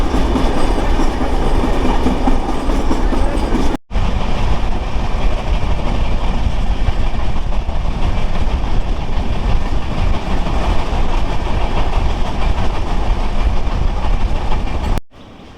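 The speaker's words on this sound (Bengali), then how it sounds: "তার মাঝখান দিয়ে আমাদের দ্রুতযান এক্সপ্রেস ট্রেন এগিয়ে যাচ্ছে।" Ekota Express train running through green paddy fields between Dinajpur stations, a loud, continuous rumble of wheels on rails with rhythmic clatter, heard from inside the carriage, with two brief cuts.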